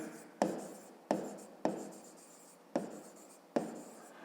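A pen writes out a perimeter formula on paper for a fifth-grade maths problem, five close, soft scratching strokes, each opening with a crisp onset and fading, with no talking.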